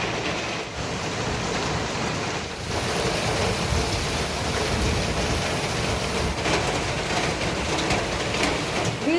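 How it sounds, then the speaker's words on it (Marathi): Heavy stormy rain pours in a dense, steady roar, with a low rumble of thunder blending into the constant downpour. "जोराचा वादळी पाऊस"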